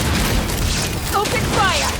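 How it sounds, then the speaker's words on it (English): A Pyroclastic surge explosion from the video game Genshin Impact booms loudly and steadily, with a dense rumbling burst running through it. Game voice and music mix in over the blast. "Fire in the hole! May I present Pyroclastic surge!"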